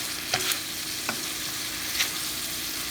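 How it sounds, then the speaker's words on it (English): Constant hiss of egg roll in a bowl filling sizzling in a hot frying pan, with a few faint clinks of stirring on top. "Can you hear that delicious sizzle?"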